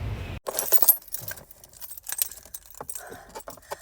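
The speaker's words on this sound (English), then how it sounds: "turn the camera off so I can find my keys and get home" A bunch of keys jangles close by in a series of bright metallic clinks and rattles, coming in irregular bursts separated by short quiet gaps.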